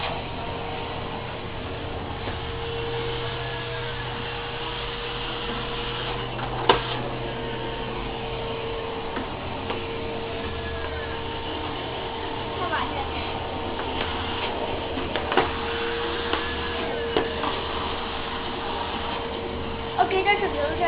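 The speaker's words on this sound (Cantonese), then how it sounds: "係弟弟第一次學習吸塵" A young child runs a household vacuum cleaner around a home. It gives a steady motor drone for the whole stretch, with occasional bumps and clicks and people talking over it.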